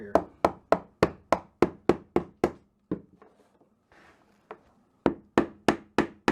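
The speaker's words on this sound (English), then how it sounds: "we're just using a piece of the flooring and a rubber mallet and giving it some good wax" A rubber mallet striking a scrap piece of luxury vinyl flooring to knock planks together in a bathroom, delivering sharp, evenly spaced knocks in quick runs, with a short pause and a few lighter rustles between bursts.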